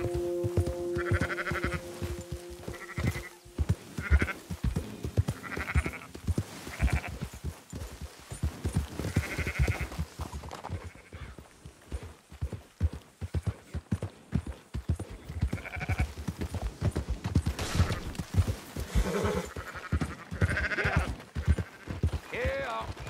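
Sheep on a farm in Red Dead Redemption 2 bleat repeatedly in short bursts, mixed with hoof clip-clops and a voice talking over them.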